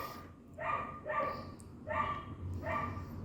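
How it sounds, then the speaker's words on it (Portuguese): A dog barks out on a street, four evenly spaced barks at moderate distance, alone over a low background hum. "Hoje tem um cachorro aí na rua que tá terrível."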